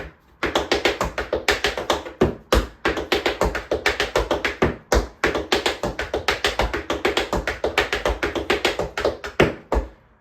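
A tap dancer runs through a rolling riffles combo with heel drops: steady streams of bright, close metallic taps, broken by a few short pauses and punctuated by heavier heel accents.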